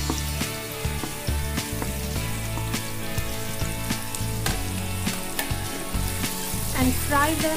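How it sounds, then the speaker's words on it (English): Onions frying in hot oil with crackling cumin seeds and curry leaves for a prawn masala, a steady close sizzle with small pops and occasional stirring clinks throughout. "And fry them till they are golden brown in color."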